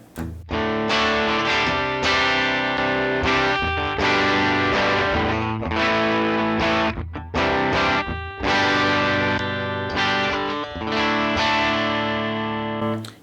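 A heavily distorted electric guitar plays chugging power chords with brief pauses, loud and close with a processed tone from an Axe-Fx III amp model using a 1x12 cabinet.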